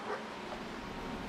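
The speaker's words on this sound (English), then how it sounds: "If you can hear the barking in the background" A dog barks faintly in the background, a few short yips and woofs buried in a steady wash of broadband noise.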